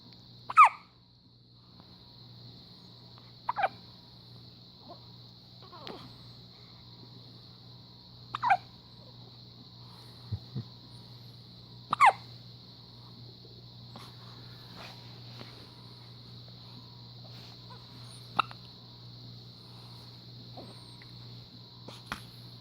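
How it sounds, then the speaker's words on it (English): A small child's hiccups, a handful of short sharp isolated hics spaced irregularly across a quiet room with a steady background hum, no talk. "Oh, sorry about them hiccups."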